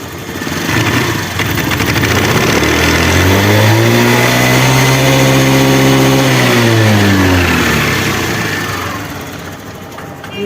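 A motorcycle engine, started with one kick, catches and revs up loudly and steadily, its pitch rising and holding before easing back down toward the end.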